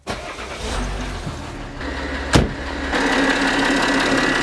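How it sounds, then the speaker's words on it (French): A Citroën C6 engine cranks and fires up, a sharp catch near the middle followed by a steadier, louder running hum, close and with no one talking. "Donc je vais démarrer le moteur et puis la remettre en position normale."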